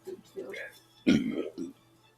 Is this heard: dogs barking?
no